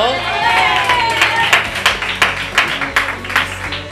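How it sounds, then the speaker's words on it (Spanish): A carnival chirigota audience claps along in a steady rhythmic beat, sharp regular hand claps growing stronger over crowd noise and voices talking. "Ole, un aplauso, ¿no?"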